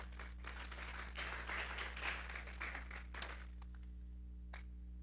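A church congregation at a Sunday service claps together, a fairly distant burst of applause that thins out and fades into scattered claps near the end, over a steady low electrical hum.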